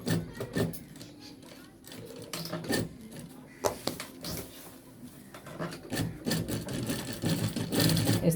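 A sewing machine stitches a men's shirt collar, running in short rhythmic bursts of rapid clatter separated by brief pauses, fairly close and moderately quiet.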